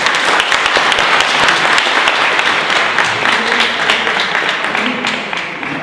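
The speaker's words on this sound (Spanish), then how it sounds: "Un aplauso." Loud, dense applause from an audience at a talk on theatre and immersion in games, sustained clapping that slowly tapers toward the end with no one speaking.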